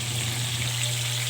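Minced garlic and onion sizzle steadily in a hot pan, an even close frying hiss with no pauses, a base for ginisang green munggo with pork.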